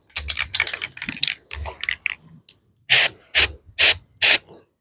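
Wound spray applied to a goat's knee after a lump was drained, giving four short, loud hissing bursts in a steady rhythm following a stretch of softer rustling and handling noise.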